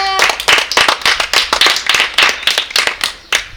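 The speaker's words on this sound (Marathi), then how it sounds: "वा वा वा वा, टाळ्या वाजवा." A group of children clap together for the winning team during a classroom maths game, a dense burst of quick, uneven claps that runs steadily for several seconds.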